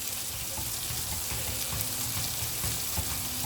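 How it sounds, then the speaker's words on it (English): Butter is gently whisked into a red wine sauce simmering on low heat, a soft, steady bubbling and sizzling hiss with faint scraping, continuous and fairly quiet. "turn the heat down so it's not boiling vigorously, and you just gently whisk that butter into it"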